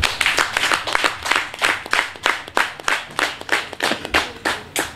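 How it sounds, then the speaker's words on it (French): Crowd applause at a Beninese nursing assistants' ceremony honouring the head of state and the health minister: sustained rhythmic clapping from many hands, loud and close, with steady pulses throughout and no talk. "nous allons acclamer le Père de la Nation et notre ministre de la Santé"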